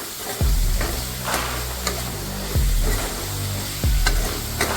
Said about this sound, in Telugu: కట్ చేసుకున్న క్యాప్స్ తీసుకున్నాం కదా అది కూడా వేసుకున్నాం టమాటీ పీస్ కూడా వేసుకున్నాం చక్కగా అంతా నీట్గా వేయించుకోవాలి